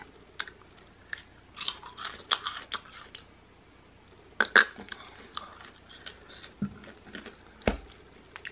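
A person chews hot, spicy food close to the microphone. Scattered wet smacks and crunchy bites come at an irregular pace over quiet room tone, with a couple of sharper mouth sounds and a low thump near the end.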